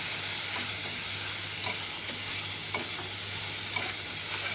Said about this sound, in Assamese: এইখিনি লৰাই আছোঁ।